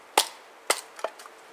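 Schrade brush sword chopping into wood between two knots: two sharp, loud chops followed by a couple of lighter taps, close by with no talking.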